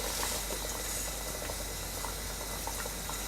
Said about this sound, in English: So this is nicely boiling away.